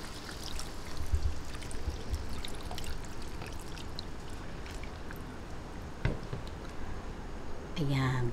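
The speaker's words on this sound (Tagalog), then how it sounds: "Ngayon po, tubigan na po natin at palambutin." Water poured into a pot holding a pork leg for a Filipino pata hamonado, a steady splashing pour running under constant kitchen background noise, with a brief clatter near the end.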